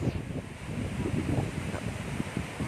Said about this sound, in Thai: ลมแรงมากๆครับ